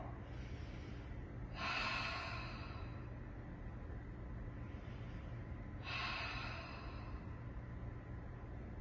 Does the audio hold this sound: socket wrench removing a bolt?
no